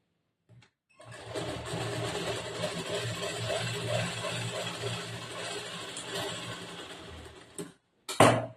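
A sewing machine runs for about seven seconds while stitching a back-hook blouse, a steady close mechanical whir with a brief start and a sharp clack at the end.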